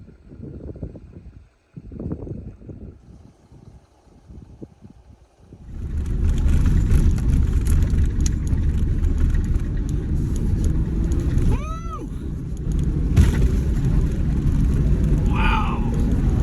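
A car drives at 40 mph on Old Ore Road, a desolate dirt road in Big Bend, with a loud, steady rumble of tires and engine after a quieter start where a voice speaks.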